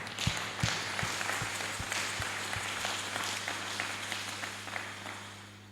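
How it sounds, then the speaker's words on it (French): Applause from a church congregation during a French sermon on Mary and the Holy Spirit, a steady wash of many hands clapping for several seconds, moderately loud over a constant low hum. "Applaudissons pour elle quand même."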